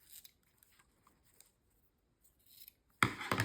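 Scissors trim a paper paint sample at an angle. A crisp cut comes near the end after faint rustles and near silence, close and fairly quiet.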